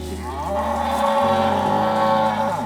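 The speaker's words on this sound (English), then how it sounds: "We rescued Merle with his mom, Paulette, the other black cow that's back there" A black rescued cow at a farm sanctuary in Austin gives one long, loud, close moo that falls and rises in pitch, heard alone with no talk.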